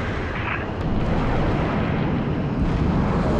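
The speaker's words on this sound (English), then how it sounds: "Seraph ran into the Savannah there and got completely annihilated." Covenant Seraph crashing and exploding in Halo Reach, a loud rolling blast and rumble that swells after a brief start and stays heavy and roaring to the end.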